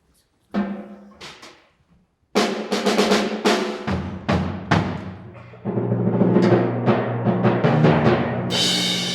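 Orchestral percussion instruments are demonstrated one after another: a few isolated struck hits with ringing decays, then a denser run of sharp strikes, and finally sustained resonant tones building toward a bright shimmering crash, all close and without talk.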